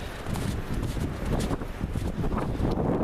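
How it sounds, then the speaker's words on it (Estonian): Strong wind rushing through a mixed spruce forest in snowy winter, a steady broadband roar with gusty swells and mic buffeting throughout, no voices. "Nüüd on juba tuul tugevam siin."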